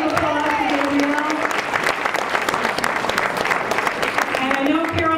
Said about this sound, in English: Please a round of applause for Gabrielle.